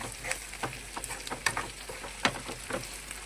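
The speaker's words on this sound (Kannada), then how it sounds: "ಈಗ ಇಲ್ಲಿ ನೋಡ್ರಿ ಉಳ್ಳಾಗಡ್ಡಿ ಫ್ರೈ ಆಗತ್ತು" Onions frying in a pan for egg biryani, a low steady sizzle punctuated by scattered clicks and scrapes of stirring, close and moderately quiet, with no speech.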